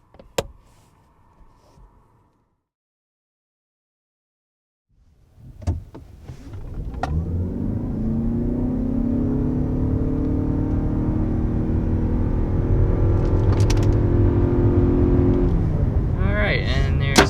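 A 2022 Lexus UX 250h hybrid accelerates hard to 60 mph, its engine and road noise rising into a steady loud droning whine inside the cabin after a short quiet start.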